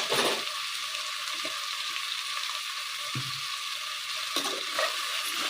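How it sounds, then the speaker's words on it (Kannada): Eggplant pieces with a little turmeric sizzle and crackle as they fry in a pot, a steady close hiss with a few soft stirring clinks, no voices. "ಇದು ಚೆನ್ನಾಗಿ ಫ್ರೈ ಮಾಡ್ಕೊಳ್ಳೋಣ"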